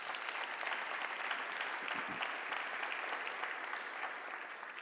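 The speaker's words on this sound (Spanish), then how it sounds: "Démosle un aplauso al Espíritu Santo" A church congregation applauding, a dense and steady wash of many hands clapping at some distance, sustained evenly throughout with a faint thump partway through.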